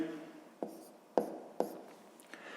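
Pen writing by hand on paper while working a sixth-grade math exercise, close and quiet, with several distinct scratchy strokes and taps spaced through the pass.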